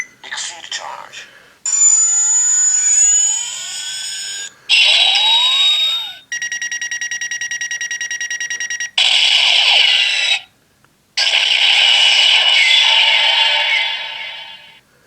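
A CSM Faiz Driver transformation belt toy from Masked Rider Faiz fires its exceed charge sequence: loud electronic chimes, rising synth sweeps, a steady pulsing buzz and tone bursts with short pauses between, plus an electronic voice announcement.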